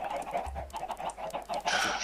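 Chickens in a blocky Minecraft-style game cluck in repeated short bursts, with a brighter squawk near the end, moderately loud over a steady background.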